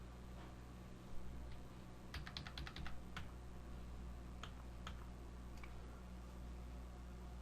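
Entries typed on a computer keyboard during accounting data input: a quick burst of close key clicks, then a few scattered single taps over a faint steady fan hum.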